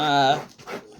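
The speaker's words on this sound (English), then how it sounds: "Sorry for my dog, the mix master in the background." A pet dog pants close to the microphone in short, quick breathy bursts, a brief rhythmic huffing with a whiny edge, heard alone without talk.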